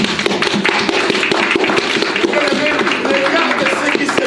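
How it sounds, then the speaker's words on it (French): A church congregation claps and cheers loudly during a worship service, a dense, steady wash of applause with sharp hand-clap transients and voices mixed in throughout. "Vous pouvez vous mettre en acclame très fort pour la parole de Dieu."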